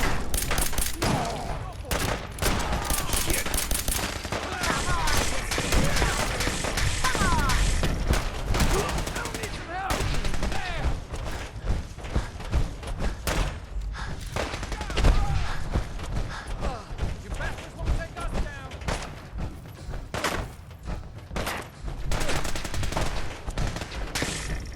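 Sustained gunfire from the video game Fallout 4, dense bursts of shots and automatic fire crackling almost continuously for the whole stretch, loud and close with uneven rhythm and occasional heavier thuds.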